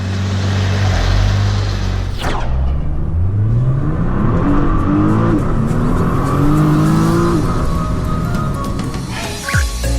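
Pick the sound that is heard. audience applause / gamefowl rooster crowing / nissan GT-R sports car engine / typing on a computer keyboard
nissan GT-R sports car engine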